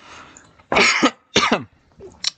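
Three harsh, close coughs in quick succession, the first two strong and the last shorter and weaker, with no talking.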